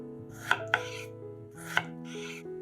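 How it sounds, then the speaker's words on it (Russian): Three or four sharp knife chops slicing tomato halves on a cutting board, spaced irregularly over a low steady background hum. "Половинки помидора нарезаем пластинками."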